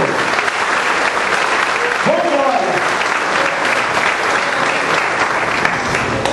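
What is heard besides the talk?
congregation applauding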